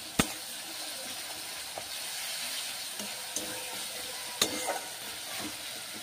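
Ginger paste being stirred into food frying in a pan, a steady soft sizzle with a few sharp utensil clicks against the pan.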